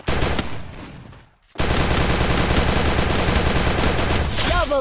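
Rapid automatic gunfire in the shooter game Free Fire, including MP40 and AC-80 weapons, rattles loudly in dense bursts, breaks off briefly, then resumes as a continuous close barrage.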